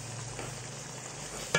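Chicken noodle topping fries in a pan with oyster sauce just added, giving a steady close sizzle that ends in a sharp clatter.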